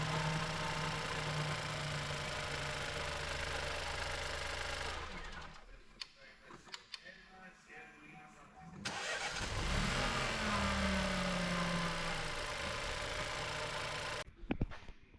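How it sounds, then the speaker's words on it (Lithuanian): Engine of an Opel Astra K with a 1.0 petrol unit, after timing and oil pump chain replacement, turning over and running: a steady loud drone, a quieter broken stretch midway, then a rising start and a strong steady idle. "variklis užsikūrė"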